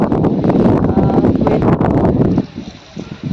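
Strong gusts of wind buffet the microphone outdoors, a loud broadband roar with leaves rustling that drops off abruptly after a few seconds into a quieter, softer breeze.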